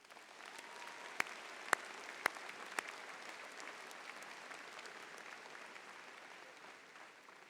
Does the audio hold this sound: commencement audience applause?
yes